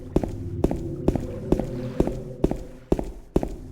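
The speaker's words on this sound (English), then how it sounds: "Now there's obviously hundreds of footstep sound effects added to make it sound more believable." Footsteps from the Silent Hill 2 Remake video game sound as a steady, evenly spaced series of about eight close, heavy steps at a walking pace over a low droning ambience.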